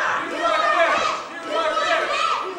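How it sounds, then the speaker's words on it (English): A wrestling crowd at an independent wrestling show chants in rhythmic unison, loud, massed voices rising and falling in repeated phrases across the whole stretch. "Crowd chanting USA."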